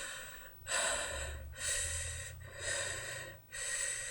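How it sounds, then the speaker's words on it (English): Heavy breathing in a horror game narration, four loud, drawn-out breaths in steady rhythm, each a broad rasping rush of air separated by short pauses, close and alone with a low hum beneath. "the heavy breathing"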